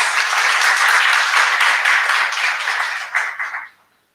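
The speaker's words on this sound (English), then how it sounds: "please let's give Prof a round of applause" At an academic panel on women in research, the audience gives a full, loud round of applause for a professor, dense clapping that tapers into a few last claps before stopping.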